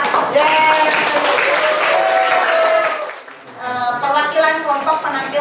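Classroom applause breaks out among students, a burst of clapping mixed with voices that dips briefly and then resumes, loud and close.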